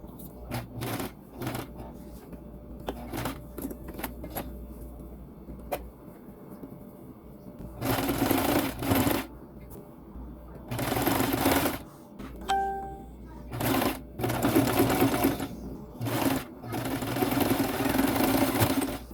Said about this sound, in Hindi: आपके सामने स्टिच करते हैं